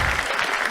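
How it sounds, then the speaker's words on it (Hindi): A crowd at a Hindi comic poetry gathering claps together in a brief, dense, steady burst of applause with no talking over it. "हिलते हुए हाथ एक बार सामूहिक रूप से तालियां बजा"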